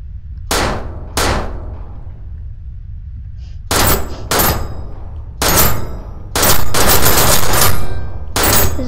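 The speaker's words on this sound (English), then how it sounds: "Let's use a pistol." Pistol gunshots in the video game People Playground: about eight sharp, loud cracks, first a close pair, then a steadier run of shots with brief ringing tails in between.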